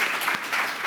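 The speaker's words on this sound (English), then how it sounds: "And you should give them a round of applause" Brief burst of audience applause in a hall during a Comic-Con panel on Hollywood location scouts, a dense, even wash of clapping lasting under a second.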